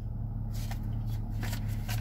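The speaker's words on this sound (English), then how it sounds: "Let me grab my notebook." A notebook is pulled out and its paper pages handled, making soft, papery rustles and flicks in short bursts over a steady low room hum, with no talking.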